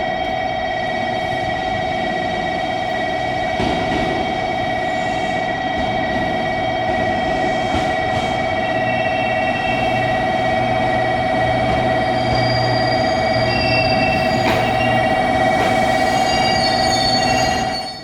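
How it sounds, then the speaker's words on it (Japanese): A JR Kyushu Kirameki limited express train rolls into a station platform with a steady rumble, high squealing wheels and sustained tonal hums, loud and continuous until it fades at the very end. "39分特急きらめき7号博多行きです"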